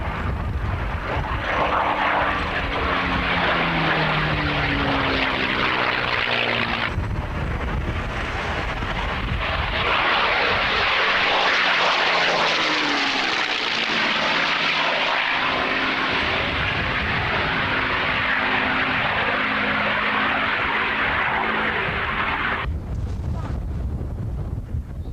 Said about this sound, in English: Is that the is that a Messerschmitt 109?